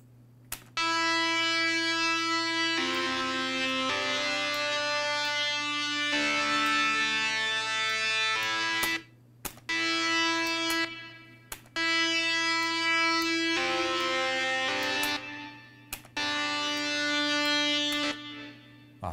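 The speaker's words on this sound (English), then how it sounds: "So we got a pretty big cave echo on this" Sustained synth chords ring out with a long, washy cave echo reverb, swelling and changing in blocks, with brief clicks and dropouts between sections.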